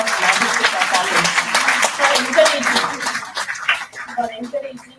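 Conference audience at Maris Stella College in Vijayawada applauding the college management: a burst of crowd clapping that fades out over a few seconds while a voice talks over it.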